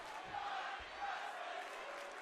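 A crowd roars and cheers in a steady, distant wash at a WWE 2K23 wrestling match, with no words spoken over it.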